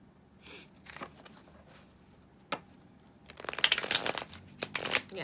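Tarot cards shuffled by hand close up, a few soft riffles and slides at first, then a denser burst of crisp flicking and snapping toward the end, with quiet breathing between.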